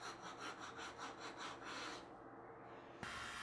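A woodworking rasp made of stacked bandsaw blades shapes wood in a quiet, rhythmic series of rough scraping strokes, then the strokes stop and a brief faint knock follows.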